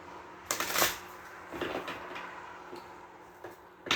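Tarot cards being shuffled by hand, with quiet papery riffles and taps in several short bursts against a faint steady background hum, no one speaking.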